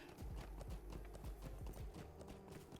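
Horse hooves clip-clop at a steady walking pace in The Lord of the Rings Online, a continuous run of close, moderately loud hoof strikes with no talk over them.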